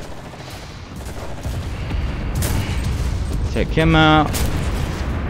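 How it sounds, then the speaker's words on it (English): Dull, rumbling bomb blasts in the Enlisted WWII shooter during a Berlin battle, booming under continuous combat noise, with someone speaking briefly over the din. "Those are bombs."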